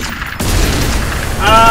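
A Liberty Grenade explodes in the video game Magicka with a loud, sudden boom that gives way to a rumbling burst lasting about a second, followed by a brief electronic tone.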